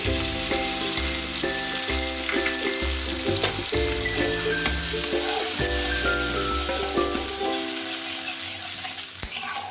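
Sour yogurt goes into a hot pan for Bengali prawn malai curry, bringing a dense sizzle with rhythmic low thumps of stirring across the first several seconds before the frying settles into a steady hiss.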